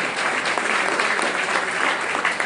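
Congregation at a church service in Mexico City claps steadily and loudly in a dense, continuous round of applause.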